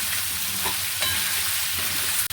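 Cauliflower, sweet potato and other winter vegetables frying in a pan, a close, steady crackling sizzle with brief scraping from stirring and a sudden cut at the end.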